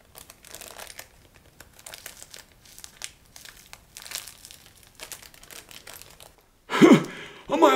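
A plastic-wrapped package holding a foam 3D Halloween house kit is crinkled and tugged open in light, intermittent rustles. A louder burst of crumpling comes near the end, and voices talk alongside.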